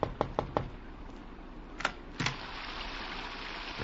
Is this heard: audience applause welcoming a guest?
no